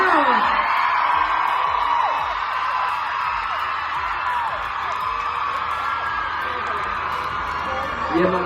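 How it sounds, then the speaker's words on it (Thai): A large crowd screams and cheers continuously, a dense wash of high-pitched whoops and yells that holds steady throughout. "ถ้าชอบกรี๊ดดังนให้น้องจิมมี่หน่อยแล้ว"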